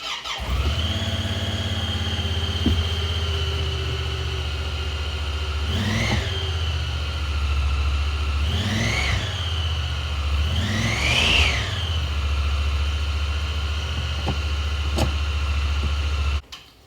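A Honda Pioneer UTV engine starts and idles with a steady low drone, then revs up in three rising and falling bursts, each sharper than the last, before shutting off at the end.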